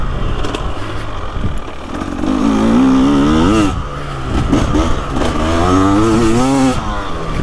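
A 300cc two-stroke dirt bike, KTM 300XCW or Beta 300, rides through the woods, its engine buzzing loud and close, revving up and down in repeated rising and falling surges with no talk.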